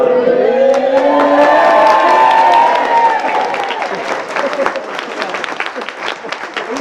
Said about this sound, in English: Do a big cheer when he comes in.